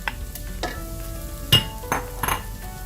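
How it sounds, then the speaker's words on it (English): Beef with its sauce and oil goes into a hot pan with scrambled eggs, a steady close sizzle broken by several sharp scrapes and clinks of a utensil against the pan as it is stirred. "Throw the beef back in with all of its sauce and any oil."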